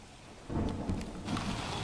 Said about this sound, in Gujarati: અત્યારે ધીમી ધારે વરસાદ શરૂ જ છે